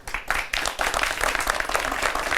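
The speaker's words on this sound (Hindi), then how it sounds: "ये ट्रिक अगर अच्छी लगी तो तालियों के साथ आपको उत्साह बढ़ाना चाहिए आपको" Audience applause after a magic trick on a television show, a dense, lively clapping that starts unevenly and then swells into steady, loud, close applause lasting a couple of seconds.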